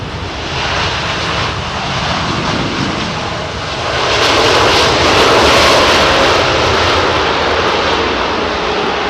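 A jet airliner lands on runway 27R at London Heathrow, its broadband engine roar holding steady and loud, then swelling louder near the middle as it passes close, with no voices over it.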